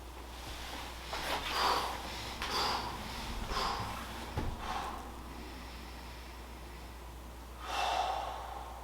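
Heavy breathing during recovery from push-ups: repeated loud exhales and snorting breaths in a slow, uneven rhythm, close to the microphone, with no talking.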